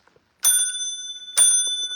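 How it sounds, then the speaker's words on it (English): Two clear rings of a small handheld bell, the second following about a second after the first, each leaving a bright ringing tone that lingers, close and loud with no talk over it. "I've got to do my traditional bell ringing."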